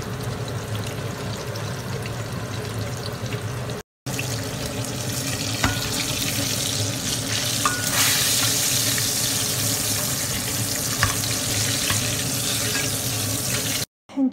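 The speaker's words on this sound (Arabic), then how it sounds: "ثم نبدأ نقلي الدجاج" Flour-coated chicken pieces frying in hot oil give off a steady, loud, hissing sizzle that runs almost without a break. No one speaks.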